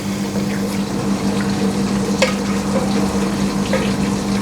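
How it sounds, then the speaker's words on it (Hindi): Water runs into a cooking pot of dal and chicken for shami kabab, a steady liquid trickle with a low hum beneath it and a few faint clinks, fairly close and without speech. "थोड़ा सा और डालेंगे पानी।"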